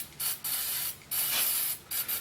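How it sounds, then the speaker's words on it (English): Silicone spray hisses from an aerosol can onto the stabilizer bar of a 2001 Buick Century, in several close, loud bursts of differing length separated by short pauses. "Just a little bit of silicone spray to facilitate what we're doing"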